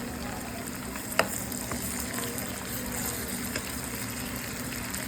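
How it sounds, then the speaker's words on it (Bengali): Dried fish and beans frying in hot oil for a curry, with a dense, continuous close sizzle and one sharp utensil knock near the start, then fainter stirring clicks, with no voices. "এটা যখন ব্রাউন কালার মতো ভাজা হয়ে যাবে"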